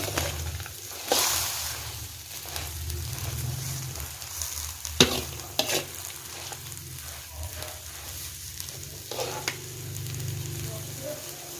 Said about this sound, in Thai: อันนี้ก็มาทอดแมงจิโลพี่น้อง